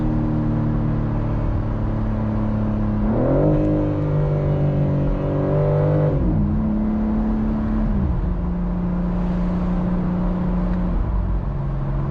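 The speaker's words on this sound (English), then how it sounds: "You can hear definitely the exhaust." A 2025 BMW M4 Competition Convertible's exhaust drones loudly and continuously, rising in pitch as the engine revs, then settling and dipping again.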